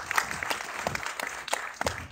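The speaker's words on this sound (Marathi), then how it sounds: "एकदा जोरदार टाळ्या तिघींसाठी" Scattered claps from an audience at a Marathi film trailer launch, applauding three actresses; sparse, uneven hand claps, fairly faint and distant, with a few sharper bursts.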